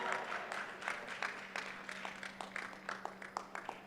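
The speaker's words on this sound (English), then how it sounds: "Come on, give her a big round of applause." An awards-ceremony audience claps in a scattered, moderately faint patter of applause that continues steadily without talk.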